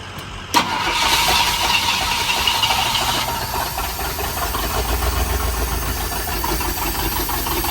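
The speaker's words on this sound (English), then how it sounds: "Don't mind the big exhaust leak." A 1971 Ford F250 engine with a big exhaust leak cranks and fires about half a second in, then runs steadily with a loud, raspy, ticking exhaust rumble for the rest of the clip. No one speaks.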